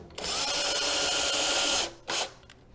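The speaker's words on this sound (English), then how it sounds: "the next step is just to mount it with a few screws." A power drill drives screws to mount a plumbing rough-in valve to a 2x4, one long, steady, close whir followed by a short second burst, with no talking.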